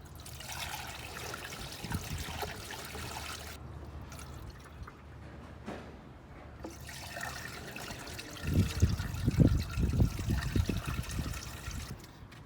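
Fluid is poured into a car to refill it, a steady trickling and gurgling stream that pauses briefly and then turns to louder splashing glugs, close with no talk.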